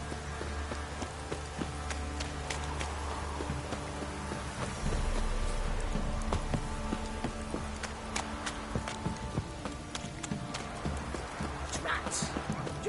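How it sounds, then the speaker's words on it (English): Heavy rain pours down in The Witcher 3 as a steady, dense hiss throughout, with hoof clip-clops and footsteps mixed in over the downpour. "Proper downpour this is."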